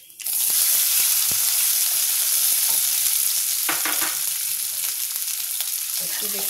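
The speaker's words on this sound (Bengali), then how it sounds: "তেলটা গরম হয়ে গেছে, আর দিয়ে দেবো কালো জিরেটা। দিয়ে দেবো পেঁয়াজ কুচিটা।" Black cumin and chopped onion hit hot oil and burst into loud, continuous sizzling that starts abruptly and holds steady for several seconds, with faint stirring and no talk.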